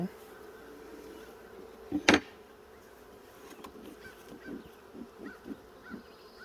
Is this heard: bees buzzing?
yes